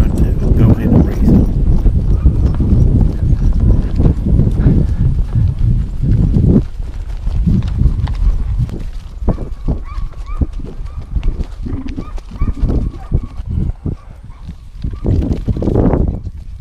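A horse's hooves clop on the ground at a dog field trial in Grove Springs, Missouri, as a rider approaches. The steady close hoofbeats are loud at first and then lighter, with people talking over them.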